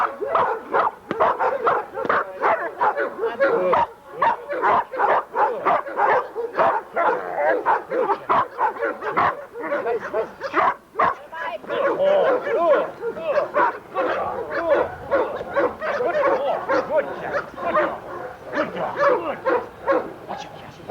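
A dog barks and yips repeatedly during bite work training, rapid close barks in an almost continuous rhythm, with people talking at times.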